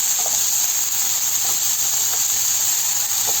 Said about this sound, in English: The oil is well heated up before you put your vegetables in the pan.